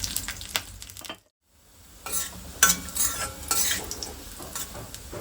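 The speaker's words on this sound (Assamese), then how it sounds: "ড্ৰাই ফ্ৰুটছখিনি খুব ধুনীয়াকৈ ফ্ৰাই কৰি ল'ম।" Dry fruits frying in a spoonful of ghee, a crackling sizzle with spoon scraping and stirring against the pan, broken by a moment of silence before the close, busy frying resumes.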